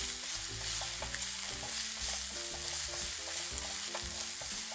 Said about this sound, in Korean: 빨리 익히고 싶은 순서대로 먼저 양파를 볶아주고요